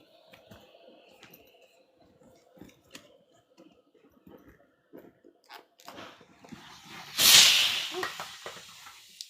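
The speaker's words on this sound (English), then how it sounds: "And I'm just going to hit it with some steam." A steam cleaner working on a vehicle's interior gives a sharp, loud hiss that swells and then fades near the end, after a stretch of quiet clicks, taps and handling noises close by.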